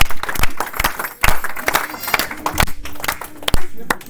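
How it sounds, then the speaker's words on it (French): A church congregation applauds during a sermon, loud irregular clapping from a crowd mixed with voices and shouts. "Acclamons pour Jésus"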